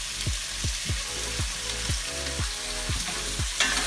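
Green peppers sizzle as they go into a cooking pot of Jamaican callaloo. A steady frying hiss runs throughout, broken by regular scraping stir strokes about every half second.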